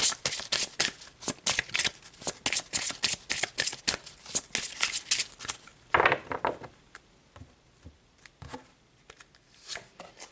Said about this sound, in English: let's pull another card to gain more insight and clarity